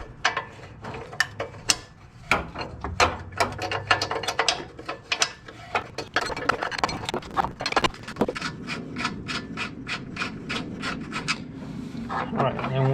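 Wrench working loose a 24 mm nut on the exhaust of an S13 240SX convertible drift car, heard as a close, busy run of ratcheting clicks, rubbing and metallic scraping as the nut spins off.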